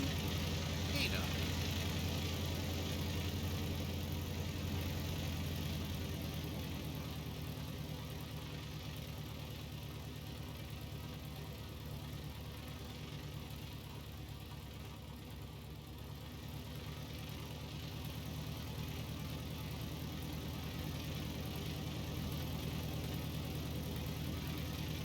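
The engine of a Piper Arrow III taxiing in X-Plane 12, a steady low droning hum with a tonal whine on top, constant throughout, with a voice talking over it.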